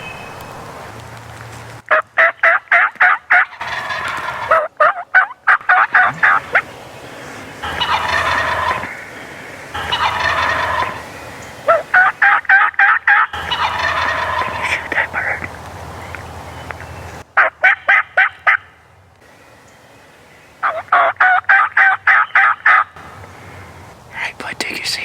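Wild turkeys gobble repeatedly on a hunt, one bigger bird about 65 yards off, the rattling calls coming in bursts that alternate with shorter clucks and stretches of quiet, fairly loud and close-sounding, with no talking.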